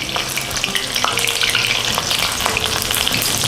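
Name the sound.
egg frying in a new pan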